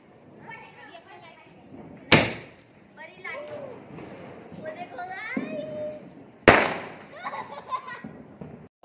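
Two sharp, loud Diwali firecracker shots bang several seconds apart, each with a quick decaying crackle, amid family voices and chatter close by outdoors.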